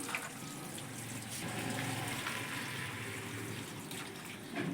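Water runs and splashes steadily during a bath, like a tap filling a bucket or tub, fairly quiet and continuous with no voices.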